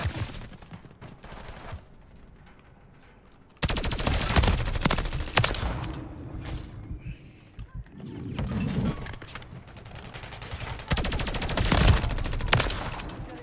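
Bursts of automatic fire from an MCW rifle in a Call of Duty match, loud rapid sprays in several separate strings with quieter gaps, a player talking faintly between them.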